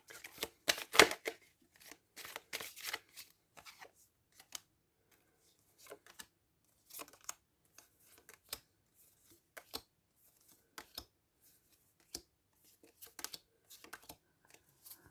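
Tarot cards are shuffled and handled for a reading, giving a fast riffle burst early on and then sparse, quiet flicks and taps of individual cards with long gaps between them.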